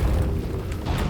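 A cannon firing in the video game Nioh 2, heard as a deep, loud boom that rumbles continuously through the brief moment.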